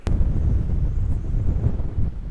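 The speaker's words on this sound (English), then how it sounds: "So windy." Strong wind gusts across a frozen pond during a first-ice fishing outing, buffeting the microphone with a loud, continuous low roar for a couple of seconds and no talking.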